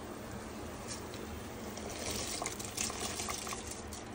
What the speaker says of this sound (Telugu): So it's time to add rice ఈ వాటర్ లోకి.